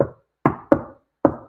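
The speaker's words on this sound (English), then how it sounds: "a friendly knock, not like a banging on the door" Four firm knocks on a wooden door, close and crisp, in a loose rhythm of one knock, a quick pair, then a final knock.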